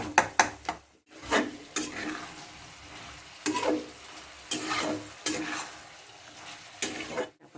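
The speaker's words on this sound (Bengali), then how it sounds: "একটু শুকনো শুকনো করে নিয়ে ভাজা ভাজা করে নিচ্ছি একটু" Mixed vegetables stir-fried in a pan for a Bengali vegetarian curry, with repeated scraping stirs over a steady close sizzle and several short pauses between bursts.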